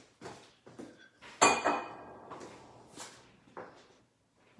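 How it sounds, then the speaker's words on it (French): A lid set onto a metal cooking pot of carrots and courgettes, a sharp clattering clink amid a few softer kitchen knocks and shuffles, close by with no talk. "On met le couvercle"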